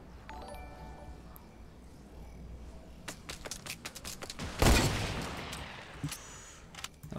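Rapid bursts of video-game gunfire crackle through a firefight, with scattered single shots, a loud heavy blast near the middle and more shots trailing after.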